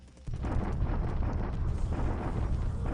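Bombardment explosions in the strategy video game Focus Pacific form a dense, continuous heavy rumble that starts abruptly and holds steady and loud throughout, with no voices.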